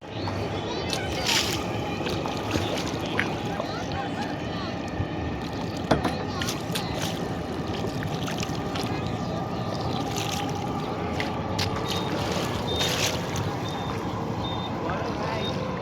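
Small boat or kayak moving across open water at Diabari, Dhaka, with continuous sloshing, splashing and wind buffeting the microphone, voices talking faintly underneath.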